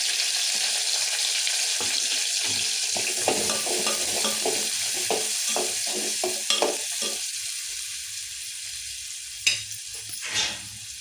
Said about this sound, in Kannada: ಈಗ ತರಕಾರಿ ಹಾಕೊಂಡು ಉಳ್ಳಾಗಡ್ಡಿ ಮೆಣಸಿನಕಾಯಿ ಒಟ್ಟಿಗೆ ಹಾಕೋತೀನಿ